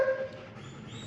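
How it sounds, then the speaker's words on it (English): A dog barks at a pet day camp: a short, fairly faint yip with a brief tonal whine at the start, set against low background bustle. "The one barking over there"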